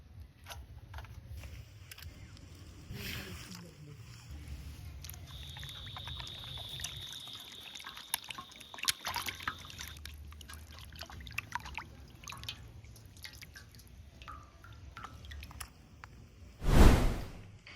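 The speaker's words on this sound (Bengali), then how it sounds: "ঠিক এইভাবে প্রত্যেকটা চুস্তায় পরিষ্কার করে ধুই নিব" Water pours and trickles while mutton intestines are rinsed clean by hand, giving soft, uneven splashing and dribbling with scattered small clicks and one louder splash near the end.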